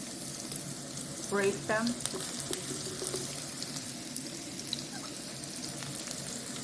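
Onion half-circles frying in a pan for a mushroom and potato stir fry produce a steady, moderate sizzle, with a brief spoken phrase early on.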